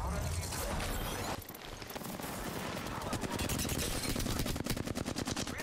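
Fast automatic assault rifle fire in Apex Legends Season 11, likely a Flatline, rattles loudly in long bursts with players talking over the shooting.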